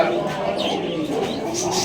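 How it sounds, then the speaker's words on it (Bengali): King pigeons coo at a pigeon market in Pabna, with short soft coos close by mixed into market chatter and people talking. "কিং কবুতর"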